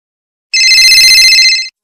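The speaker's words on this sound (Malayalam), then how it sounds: "ഫോൺ കുറെ നേരമായിട്ട് റിങ് ചെയ്യുന്നുണ്ടല്ലോ" A phone rings with a bright electronic trill that starts abruptly and lasts about a second. It is loud and close against silence.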